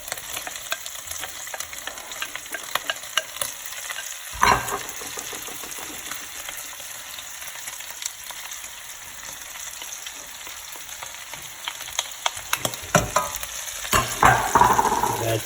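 Onions, garlic and carrots sizzle and fry in a pot, a steady soft crackle broken by occasional scraping stirs and clinks of a utensil, close up with no talk.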